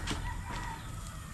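A rooster that is a group's prize clucks in short, faint calls over a steady background hiss.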